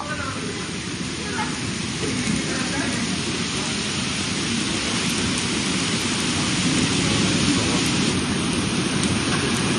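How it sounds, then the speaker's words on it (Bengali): Heavy midday storm rain in Kolkata pours in a dense, unbroken roar, with gusty wind rumbling underneath and building slightly toward the end. "প্রবল ঝড় বৃষ্টি সঙ্গে ঝোড়ো হাওয়া"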